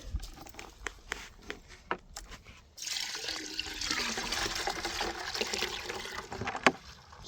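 Maple sap is poured out of a collection bucket: a few faint knocks and handling clicks, then a steady, close splashing pour that runs for several seconds before tailing off with a final clunk.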